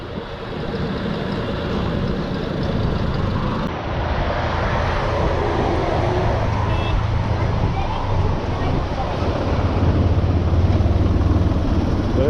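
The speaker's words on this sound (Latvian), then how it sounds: "Brauc mūsējais traktors." Tourist tractor in Turkey rumbling past at close range, a loud steady low engine roar that grows slightly heavier toward the end, mixed with broadband road and wind noise and some background voices.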